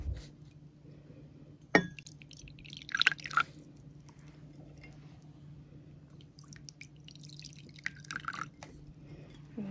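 Hot water is poured into glass containers of Redmond Real Salt and Redmond livestock salt samples, giving brief drips, splashes and glassy clinks in a few short bursts over a low hum, with no talking.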